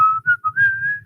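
A single voice whistles a short, bright phrase of a tune, a clear sliding pitch over a faint low murmur, close and alone.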